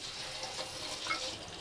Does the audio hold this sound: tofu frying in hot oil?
yes